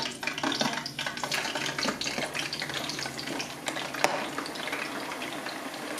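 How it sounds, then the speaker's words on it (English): French fries bubble in 350-degree oil inside a T-fal FF1628 Filtra One electric deep fryer during the second fry, giving a soft, continuous crackle with scattered pops and one sharper click. "After you lower the basket of food into the hot oil, wait for 1 minute before closing the lid"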